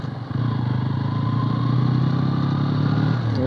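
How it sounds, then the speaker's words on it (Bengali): A 2024 Bajaj Pulsar N160 motorcycle engine runs close by with a steady, loud, throbbing drone that holds even for several seconds after a brief quieter start. "তোমরা দেখতে পেলা বাইকের কি সাউন্ড।"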